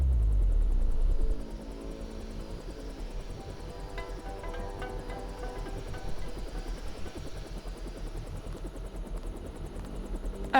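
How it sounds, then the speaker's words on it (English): In the video game Deus Ex, a steady low thudding helicopter rotor drone hums in the background after a brief louder rumble at the start, with faint clanks over it. "Alright, I hear helicopters again,"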